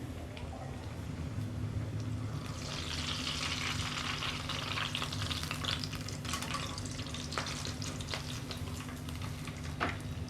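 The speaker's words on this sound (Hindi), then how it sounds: "कबाब्स अच्छी तरह से फ्राई हो चुके हैं" Gol kababs frying in a pan over a medium flame, a steady broad sizzle running throughout with light scraping and stirring clicks scattered over it, close and continuous with no talk.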